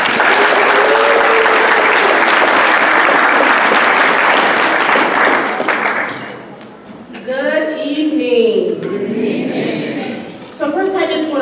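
Audience applause at an annual spring university banquet, a dense roar of clapping for about six seconds that fades out, followed by a speaker talking into a microphone.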